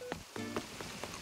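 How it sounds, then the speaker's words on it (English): Rain pattering in the video game Animal Crossing: New Horizons, soft scattered droplet taps alongside brief chiming game tones, fairly quiet and without speech. "Today it's raining and that is not so fun."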